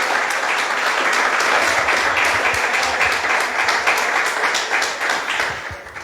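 A church congregation applauds during a worship service, dense sustained clapping from many hands filling the room at steady strength for several seconds, with little talk.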